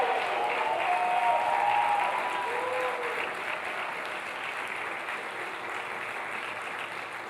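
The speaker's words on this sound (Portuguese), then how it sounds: "Fica de pé, aplauda ao Senhor e faz barulho de amor para Ele." A church congregation claps to the Lord during a family worship service, a steady wash of applause that is strongest at first and then settles slightly softer, with a faint voice showing briefly early on.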